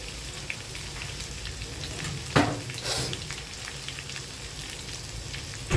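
Curry leaves, green chillies and asafoetida hit hot oil with garlic for a chana masala, a loud close crackling sizzle with one sharp burst of spattering midway.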